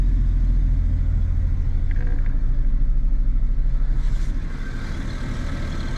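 A small Japanese kei car engine, a little 660cc turbo from a Honda Acty or Suzuki Wagon R, runs at a steady close idle with a low even rumble, settling slightly quieter near the end.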